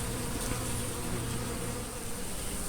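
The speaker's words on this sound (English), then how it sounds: "if we don't have enough yellow jackets around here, there's more of them than there is bees" Yellow jackets and red wasps buzz steadily and close around equipment, a dense continuous drone with no talking.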